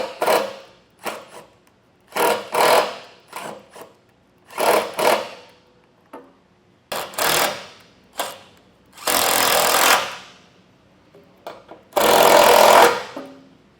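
Power tool driving the mounting bolts of a Firestone Air Command Heavy Duty air compressor into the frame of a 2024 Ford F-series truck, in several short bursts with pauses between, ending in two longer, louder runs.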